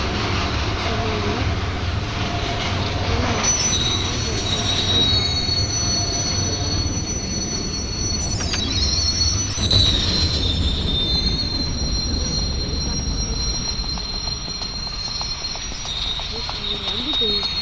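Train moving through a railway station, with long sustained wheel squeals over a continuous rolling rumble, loud and near throughout.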